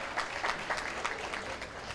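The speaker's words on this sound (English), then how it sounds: "Give yourselves a round of applause." An evening scholarship fundraiser audience applauds, a brief steady patter of many hands clapping in a room, fairly loud and continuous.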